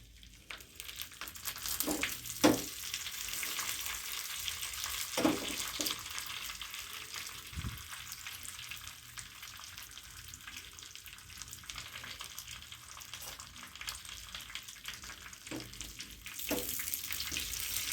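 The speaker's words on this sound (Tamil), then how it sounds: "எல்லாம் நல்லா பொரிஞ்சோடனே நம்ம பொங்கலில் சேர்த்து விட்ருவோம்" Cashews, ginger and curry leaves fry in hot oil as a tempering for coriander pongal, giving a steady close sizzle throughout with occasional stirring clinks and soft knocks and no speech.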